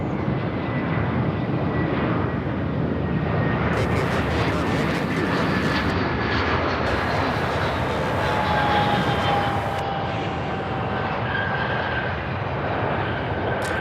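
An Amazon Prime cargo jet lands at Charlotte Douglas International Airport, a steady distant roar of jet engines with a rising whine, continuous and moderately loud with no speech.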